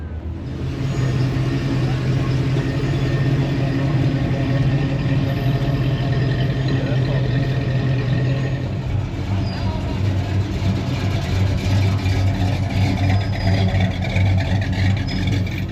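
A big blown V8 with dual quad carburetors on top of a supercharger, fitted in a custom coupe at a Gulfport car show block party, idles steadily and loud with a deep lumpy rumble throughout, amid outdoor crowd background.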